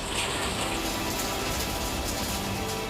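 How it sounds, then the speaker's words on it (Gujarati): Steady unseasonal rain in Valsad falls on flooded roads, making a dense, even wash of water noise that stays constant throughout, with no voices. "ધીમી ધારે પણ સતત વરસાદથી રોડ રસ્તા પર પાણી ભરાઈ રહ્યા છે"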